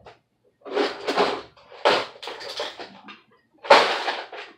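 A big pile of Hot Wheels toy cars tumbles down in several clattering bursts, scattered rattles and clinks of small die-cast cars spilling everywhere, with brief pauses between bursts.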